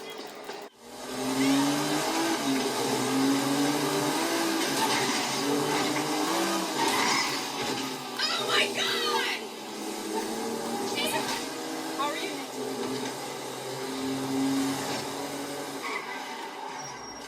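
A car being driven in the video game GTA 5, with engine revs rising and falling, tyre squeals and skids, playing steadily under a man's speech.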